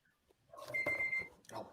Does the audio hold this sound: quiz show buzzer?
yes